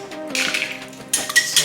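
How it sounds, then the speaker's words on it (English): Eggs whisked with a pinch of salt in a bowl: quick metallic clinks and rattling taps of the whisk against the side, in two short bursts separated by a brief pause, close and fairly loud, with no talk. "A little bit of salt. Then you whisk it."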